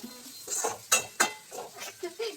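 A metal lid is set onto a cooking pot in a home kitchen, giving two sharp clanks close by amid light clatter and faint rustling.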